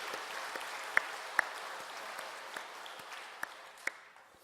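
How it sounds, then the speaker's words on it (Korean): Churchgoers at a year-end Sunday worship service give applause in praise of God, a steady, moderately distant wash of clapping with a few sharper individual claps standing out. "하나님께 영광의 박수를 올려드리겠습니다"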